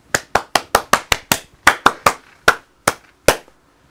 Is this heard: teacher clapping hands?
yes